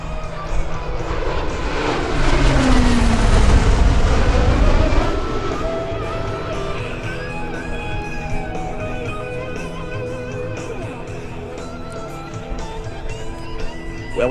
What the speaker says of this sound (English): Rolls-Royce AE2100Ds, cranked up to max power from right to left